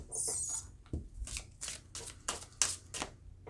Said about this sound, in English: I'm doing a terrible job of shuffling these cards.